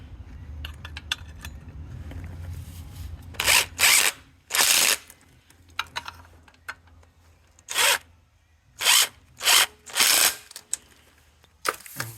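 A ratchet tightens the bolts on an Acura MDX crankshaft sensor shield in several short, loud clicking bursts separated by pauses, over a low background hum.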